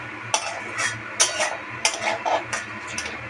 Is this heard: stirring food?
yes